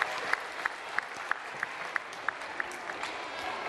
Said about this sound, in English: Let's give our 10-year people a big round of applause.